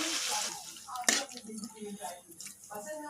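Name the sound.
pouring water into a cooking pan with spices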